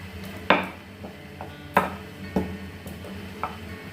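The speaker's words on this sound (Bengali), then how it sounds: "কিভাবে আমি বেলছি দেখো" Luchi dough, a small round of oiled dough, being rolled on a board with a rolling pin, giving a few sharp wooden knocks and soft rolling scrapes at an uneven pace over a low background hum, with no talking.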